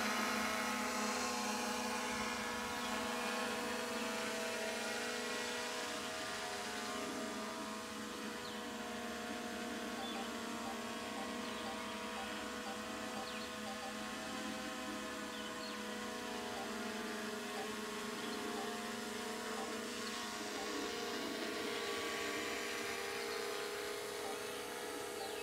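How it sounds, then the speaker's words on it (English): A small camera drone flies overhead above a tiny house with a new metal roof, giving a steady, continuous rotor whine with layered high-pitched tones that hold at a fairly even level throughout, with no one speaking. "the chickens don't like the drone"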